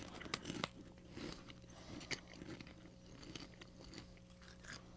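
Faint close crunching and chewing of sweet chili hollow fries snack, irregular bites and munches spread across a few seconds in a quiet room, no talk.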